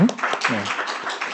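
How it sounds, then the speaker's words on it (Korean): A Korean church congregation at a Wednesday evening worship service gives a short burst of applause, and a voice is heard briefly at its start. "감사합니다. 박수."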